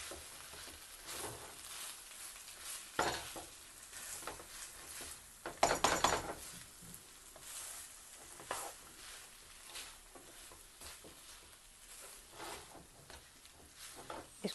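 Vegetables stirred into egg fried rice in a hot pan, with a steady sizzle under repeated scraping and clattering utensil strokes, the loudest burst near the middle, with no one talking.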